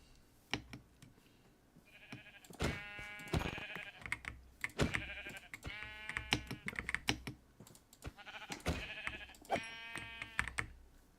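Sheep in a video game bleat repeatedly in wavering, nasal calls, several overlapping at close range, mixed with bursts of computer keyboard typing and clicks.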